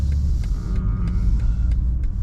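BMW 330i xDrive under way, a deep steady road rumble and engine drone inside the cabin with a few faint clicks over the top, no talk.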